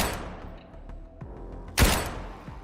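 A single loud gunshot-like burst cracks out near the middle of a dense sound-effect bed, with fainter thumps before it, as shooters open fire on a young man seated beside a woman.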